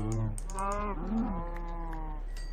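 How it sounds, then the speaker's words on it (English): Cattle mooing in a video game set in the woods, several drawn-out moos in quick succession, close and clear over quiet background with faint clicking. "Cows!"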